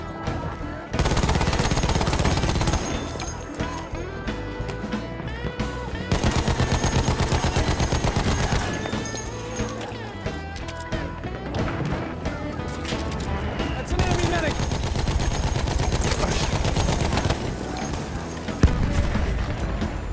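Sustained Battlefield 1 gunfire fills the clip with dense, continuous rattling bursts over a loud battle backdrop, close and steady from start to finish.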